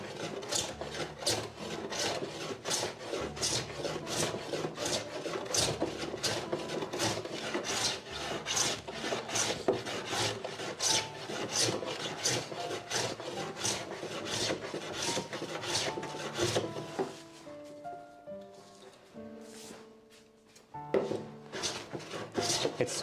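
A hand plane works a wooden board in quick, repeated rasping strokes for most of the stretch, then the shaving stops and a few soft tonal notes follow.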